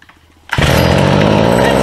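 A Stihl FS45 string trimmer engine suddenly revs up loud and close, holding a steady high buzzing roar that stays flat without picking up speed.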